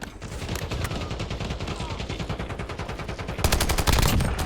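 Rapid automatic gunfire in the Call of Duty Warzone video game, a loud continuous stream of shots that swells louder and denser near the end.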